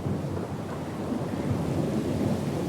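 A stormy sea in the fantasy game Pillars of Eternity II: Deadfire, with a continuous low rumble of thunder, rain and wind rolling at steady strength.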